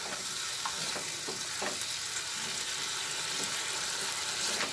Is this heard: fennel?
yes